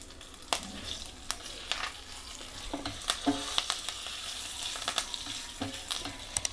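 Urad dal and a dried red chilli sizzle and crackle in hot oil, a steady close frying hiss broken by sharp pops and the scrape of stirring, with no talking.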